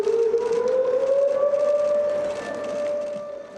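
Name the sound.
civil defense siren for Halloween disaster memorial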